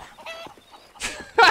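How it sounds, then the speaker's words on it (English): Chickens cluck in the Red Dead video game, a few short close clucks and squawks, the last one loud and sharp, with no talk. "Oh, and the chickens."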